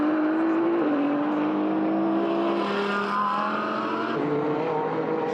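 The number 50 Ferrari race car engine screams past at the São Paulo endurance race, a loud sustained high-revving whine with gear-shift pitch drops, continuous and close, with no voices over it.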